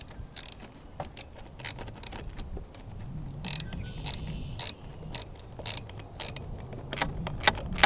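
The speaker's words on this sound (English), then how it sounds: "just put it on, and then we're going to tighten up the clamp" A hose clamp being tightened on a CTS intake filter for an MK7 GTI, a close series of quick ratcheting clicks and small metallic ticks with faint creaks between them.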